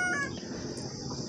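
Siruvidai and black chickens at a farm cluck and call faintly against a steady background hiss, with a few short, high-pitched bird sounds.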